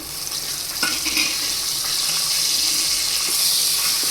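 Green chillies frying in oil in a pan for a Gujarati cabbage-carrot sambharo, giving a steady close sizzle with a few clinks from a utensil.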